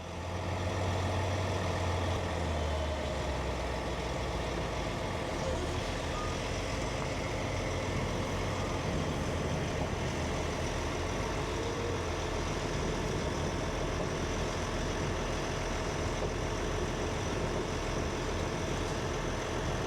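A loader and a road-train truck at a loading site near Kingaroy, engines idling in a continuous loud rumble with a broadband roar, steady for the whole stretch and alone without talk.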